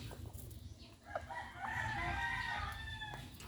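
Chickens clucking and a rooster crowing at feeding time, being fed to fatten up on a small backyard poultry setup; steady close fowl calls with a rising crowing phrase midway over a low rumbling background.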